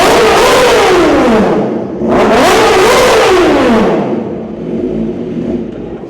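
Honda Fireblade motorcycle with a Corsa carbon exhaust revving hard and loud close by, two sweeping throttle blips rising and falling in pitch, then settling to a rough idle.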